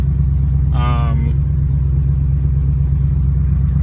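A Crown Victoria driving, with a steady low engine rumble and road drone filling the cabin throughout and a brief voice speaking over it near the start.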